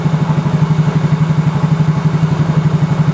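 Yamaha Mio Soul GT scooter engine running with an electrical short fault, a steady close low thrum with an even rapid pulse, loud and alone without talk.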